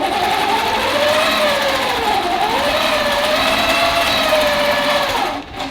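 Sewing machine stitching a quilt pattern, a steady close whirring hum with a gently wavering pitch that runs continuously before tapering off at the end.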